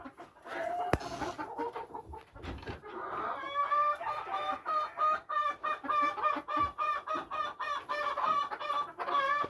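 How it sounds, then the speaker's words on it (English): Silver phoenix chickens cluck in a rapid, rhythmic series close to the listener, following an earlier rooster call from a white phoenix rooster, with farmyard calls repeating steadily throughout. "And these are the phoenix hens."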